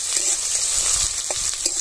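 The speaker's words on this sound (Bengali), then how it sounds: "পেঁয়াজ লাল করে ভেজে নেব।" Chopped onions with slit green chillies sizzle steadily in hot oil in a pan, a continuous close frying hiss with occasional stirring scrapes and no talk.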